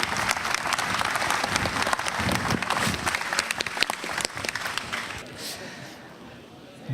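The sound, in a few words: applause for Gérard's retirement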